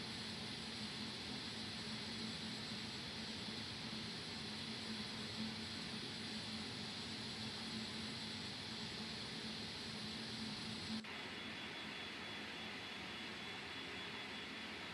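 Simulated Phenom 100 jet engines in X-Plane 11 hold a steady, quiet whining drone during a climb, the tone shifting slightly near the end.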